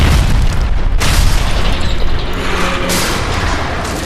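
Explosion aftermath in the video game L.A. Noire: a loud, sustained low boom and rumble filling the scene with debris-like crackle and no speech.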